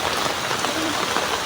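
Heavy rain pouring down near a railway line lined with houses, a dense, constant hiss of drops drumming on surfaces, close and loud, with no voices.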